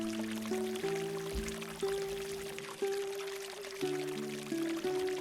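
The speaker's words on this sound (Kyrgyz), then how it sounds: "аккан суунун үнү" A stream flows on a high mountain summer pasture beside a yurt, a steady rushing wash of water heard throughout beneath soft sustained musical tones.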